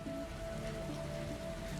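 Steady rain pours inside a leaky colony in the Beast of Reincarnation video game, a dense continuous patter of drops with a faint low tone humming underneath and no voices.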